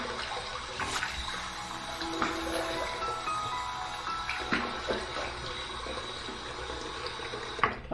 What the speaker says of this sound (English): let's take this hot water here and let's just dump that in there like that.